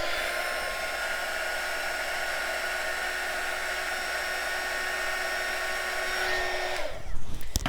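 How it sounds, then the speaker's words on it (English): A heat tool blows a steady, loud whirring hiss for several seconds while warming white resin on a coaster, then cuts off abruptly near the end. "So warm it up with your heat tool or your blowtorch, whichever you prefer."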